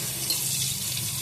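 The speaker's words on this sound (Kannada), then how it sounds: "ಇದನ್ನು ತೊಳೆಯುವ ನಾವೀಗ." Water runs steadily from a kitchen tap as a vessel is rinsed under it, a continuous close hiss and splash with no talk.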